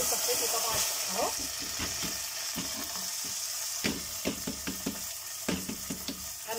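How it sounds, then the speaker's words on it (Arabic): Vermicelli sizzles and fries in a pot while being stirred, with steady frying hiss and scraping stir strokes, then grains of rice are poured in, adding clatter and splashes. "قلبت كده في الشعريه لحد ما خدت كده اللون الذهبي اللي انا عايزاه"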